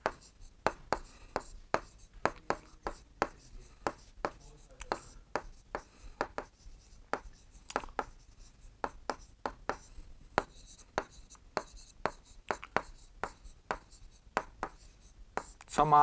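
Handwriting during a Class 7 maths lesson on rational numbers, with a steady series of sharp, close pen or chalk strokes and taps, scratching rhythmically and fairly loud, and no voice over them.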